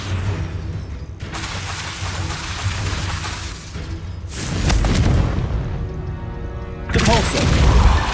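Confringo fire spell blasts in Hogwarts Legacy, two heavy booming explosions a couple of seconds apart with rumbling tails, over a mechanical combat din.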